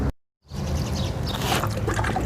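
Water pours steadily onto potted vegetable plants in a home garden, a close, continuous splashing stream that starts after a brief silent gap.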